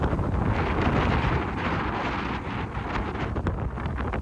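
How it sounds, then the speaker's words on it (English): Strong wind roars across the microphone on a sailboat crossing the Bay of Biscay in rough seas, a loud, steady rush with gusts and no voices. "Wind's just picked up"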